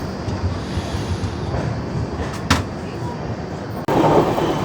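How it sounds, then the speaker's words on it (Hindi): Andhra Pradesh Express, Visakhapatnam to New Delhi, crossing a Garib Rath express at a station: a steady rolling rumble of rail wagons throughout, a brief sharp clank midway and a louder surge near the end, with faint voices in the background. "चलिए अपनी क्रॉसिंग हो रही है आंध्र प्रदेश एक्सप्रेस विशाखापट्टनम न्यू दिल्ली।"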